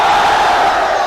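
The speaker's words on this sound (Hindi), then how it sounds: "जिधर देखो उधर भीड़" A large crowd at a PM Modi rally in Hooghly roars and chants, a loud, dense wall of voices sustained without a break through a short burst.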